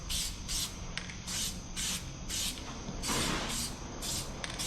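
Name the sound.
spray painting car wheel center caps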